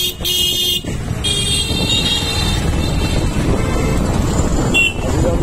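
Dense traffic jam on a road in Cuttack, a steady wall of engine and road noise with car horns tooting near and far, one longer honk at the start and a few short beeps later.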